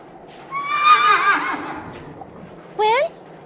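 A horse in the A Vampyre Story video game gives a long, loud whinny, followed by a second short neigh a moment later.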